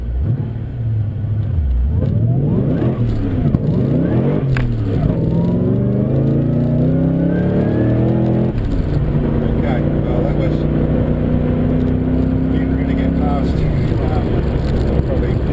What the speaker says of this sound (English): I'm trying to get a strong takeoff from a standstill.